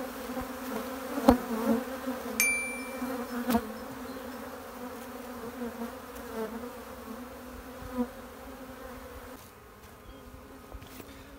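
A dense, steady hum of many honeybees buzzing close by as bees are shaken off hive frames, with occasional clicks and knocks of wooden frames being handled.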